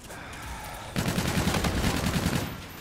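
Bursts of automatic gunfire in Call of Duty Infinite Warfare, fired through a tree, starting abruptly after a quieter stretch and continuing as a loud, rapid rattle for nearly two seconds.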